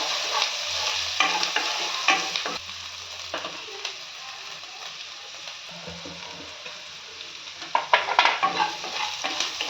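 Ingredients for mint rice, including dry flour, sizzle and fry in a pan while a spoon stirs and scrapes in intermittent bursts over a continuous hiss, with louder stirring near the end.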